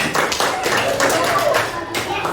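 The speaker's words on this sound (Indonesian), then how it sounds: "Tepuk tangan dulu untuk Kuais." Audience of students and teachers at an elementary school presentation clapping, a quick run of irregular claps and taps close by, with speech continuing over it.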